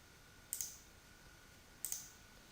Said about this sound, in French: je double-clique, je clique sur ma pièce, hop, pour la sélectionner